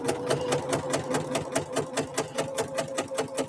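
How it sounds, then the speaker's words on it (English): Sewing machine stitching scrunchies with hot pink thread in a home studio: a steady, rapid mechanical needle rhythm, close and fairly loud, running continuously without talk. "I'm going to sew my scrunchies with hot pink thread"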